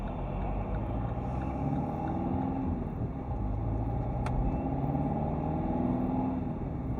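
Steady low engine rumble and road noise from inside a car during a driving lesson in Tallaght, continuous and moderately loud, with no talking.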